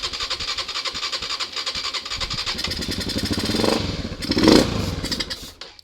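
A motorcycle engine with no fuel in the carburettor, primed with a spray, cranks with rapid rhythmic chugging, then catches and roars briefly louder before settling, close by with no talking.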